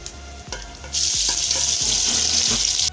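Marinated beef keema drops into a pan: a few soft clinks and taps come first, then a sudden loud sizzle that holds steady to the end.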